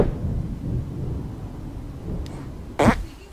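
A fart sound effect in the South Park video game Stick of Truth, a loud squeaky burst rising near the end over a low rumbling background.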